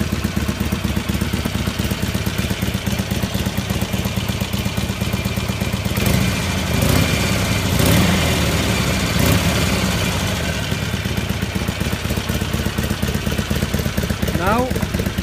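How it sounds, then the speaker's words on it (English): A Harley-Davidson Sportster idles with its Jekyll and Hyde exhaust closed, a steady, loud, low rumbling throb with even pulsing that continues throughout, close up and dominant. "Jekyll and Hyde exhaust closed."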